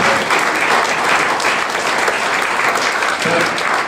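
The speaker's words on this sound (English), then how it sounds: "We need to keep this applause going" Sustained crowd applause fills a squad numbers launch event, dense and steady throughout at close range, with faint voices underneath.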